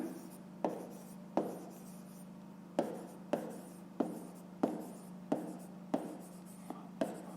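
A fraction is written by hand on paper for a fifth-grade maths exercise, a series of about ten quiet, sharp pen taps and short scratches at an uneven rhythm over a faint steady hum.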